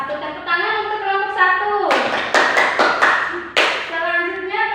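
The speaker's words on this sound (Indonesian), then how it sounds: "Tepuk tangan untuk kelompok" A classroom of young pupils claps for a group of classmates, a short burst of sharp, close handclaps breaking through between stretches of a voice speaking, with several distinct claps in the middle of the moment.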